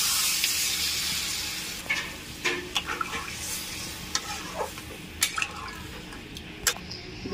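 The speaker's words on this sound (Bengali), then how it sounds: "এবার পরিমাণ মতো জল দিয়ে দেবো।" Water is poured onto browned masala frying in a pan for a homestyle desi chicken curry, giving a bright hiss that fades, followed by scattered scraping and stirring clicks close by.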